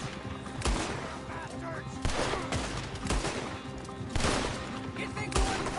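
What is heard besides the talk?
gunfire in Red Dead Redemption 2 video game shootout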